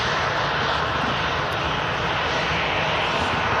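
A KLM airliner at Manchester Airport fills the air with a loud, steady jet engine roar, broad and unbroken, with no voices over it.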